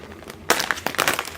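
A plastic bag from inside a padded jiffy mailer crinkles and rustles as it is handled, starting abruptly after a quiet moment and continuing in close, irregular bursts of crackling.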